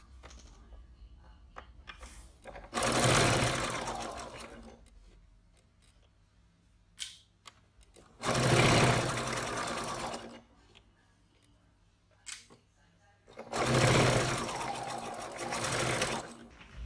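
A sewing machine stitches folded layers of fabric for a rocket pocket in three separate runs of rapid, whirring stitching, each a few seconds long, with quiet pauses between them.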